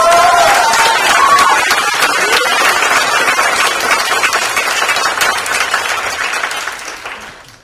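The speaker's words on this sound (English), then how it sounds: "give them a round of applause" Symposium audience applauding presenters, a broad burst of clapping from a crowd that holds steady for several seconds and then fades away.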